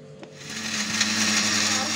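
A mixer grinder grinding a green chili, its motor spinning up from a brief start into a steady, loud whirring hum that holds to the end.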